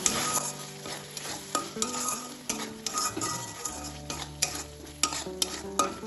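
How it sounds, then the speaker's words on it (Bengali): Spices and dried red chilli paste frying in oil for a vegetarian doi potol, sizzling loudly with frequent metal spoon clinks and scrapes against the pan in an irregular rhythm. "এবার সব কিছু তেলের সাথে আবার কষিয়ে দেব।"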